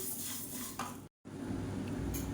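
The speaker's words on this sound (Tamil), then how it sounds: "இப்போ பாருங்கள் பயிர் நல்லா வறுபட்டுருச்சு" Horse gram dry roasting in a pan gives a steady dry rustling and scraping as it is stirred, with a brief break partway through; close and moderately quiet, no talking.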